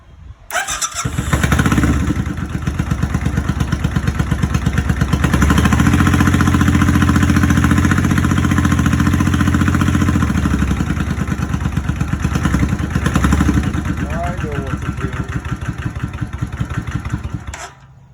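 A Yamaha V Star 650 motorcycle with an intermittent fault starts up and runs loud and close with the throttle held open, giving a steady, rough engine drone for most of the stretch before it drops back near the end.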